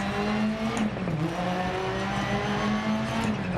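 A rally car engine in a racing video game drones at high revs with shifting pitch and faint tire noise, loud and steady throughout with no voices.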